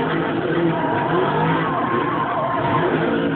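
A rally car in DiRT 3 played on a DS, a continuous buzzing, revving engine with tire noise, steady and loud throughout with a muffled, low-fidelity quality.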